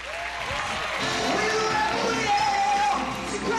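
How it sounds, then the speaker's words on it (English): A live television talent-show crowd applauds and cheers steadily for the performers, a dense wash of clapping with a few yells and music-like tones mixed in, loud and continuous throughout. "Give yourselves a round of applause."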